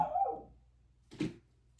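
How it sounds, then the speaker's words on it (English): A dog gives a single sharp bark partway through, short and moderately loud, after a quieter stretch of low background sound. "I don't know why the dog's barking."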